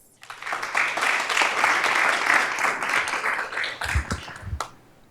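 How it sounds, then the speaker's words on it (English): Applause for a sixth-grade student speaker at a Sacramento City Unified School District board meeting, a room of people clapping steadily for several seconds before it thins to a few scattered claps and fades. "Please give him a round of applause."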